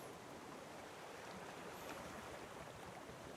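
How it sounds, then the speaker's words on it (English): Flowing water heard as a steady, dense outdoor rush with a faint wind-like hiss throughout, constant and unbroken, no voices. "listen to the soothing sound of the water while I quickly do something."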